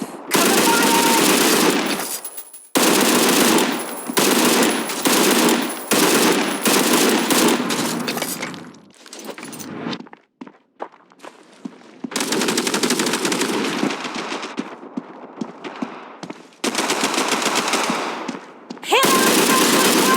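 MG30 machine gun in the World War Heroes video game fires loud, close sustained bursts with brief gaps between them and a quieter pause midway.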